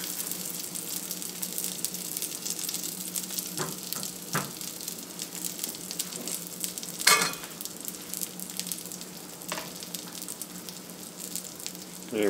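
Food frying in a cast iron skillet, a continuous soft sizzle with occasional crackles and one brief louder burst of spattering midway, quiet and steady with no talking.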